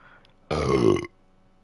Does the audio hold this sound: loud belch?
yes